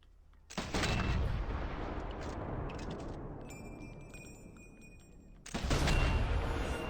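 Sniper rifle fire from the video game Sniper Elite 4 booms out in two heavy blasts several seconds apart, each followed by a long rumbling tail, loud and close, with a thin electronic ringing in between.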